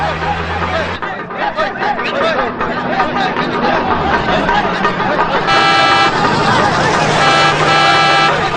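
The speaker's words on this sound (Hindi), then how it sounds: "ए गाड़ी आ रही है, गाड़ी आ रही है, रास्ता छोड़ो" An approaching vehicle sounds its horn in loud, repeated toots over a busy crowd of chattering voices, with the honking growing more insistent toward the end.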